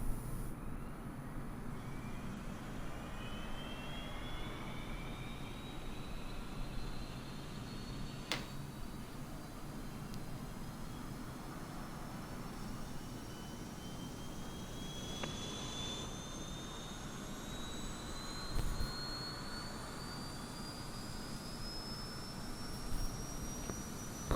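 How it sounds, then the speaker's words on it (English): Auxiliary power unit of an Airbus A320 spooling up in Microsoft Flight Simulator, heard from outside the aircraft as a steady roaring rush with a thin rising whine climbing slowly in pitch and a couple of brief clicks. "You can hear the APU start up."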